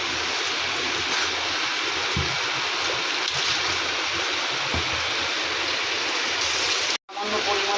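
Spices hit hot oil for tempering in a home kitchen, giving a loud, dense, continuous sizzle that hisses steadily for several seconds before a brief cut.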